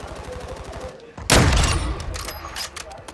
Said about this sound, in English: A lot of shooting to our right.